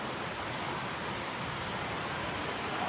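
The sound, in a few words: heavy rain falling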